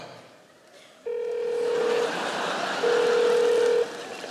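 Telephone tones while dialing a tech support line: two long, steady electronic beeps, each about a second long with a short gap between, sounding over a low, constant background hum.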